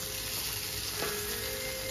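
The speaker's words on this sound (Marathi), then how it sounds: "आता ही बोंबील पलटी करायची कसरत चालू आहे" Bombay duck (bombil) fish frying in a pan with a soft, steady sizzle and a brief scrape as a piece is flipped, faint and close, without talk.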